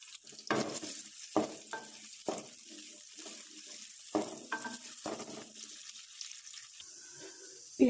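A large onion fries in half a cup of cooking oil for egg curry, with soft sizzling and repeated scraping stirs of a spoon against the pan, fairly quiet and without talk.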